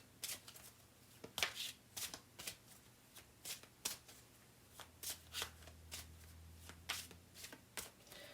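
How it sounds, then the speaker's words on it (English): Oracle cards are shuffled by hand in a steady series of crisp riffles and slaps, each burst short and close, repeating roughly every half second with a low hum beneath and no talking. "Once again, watching me shuffle."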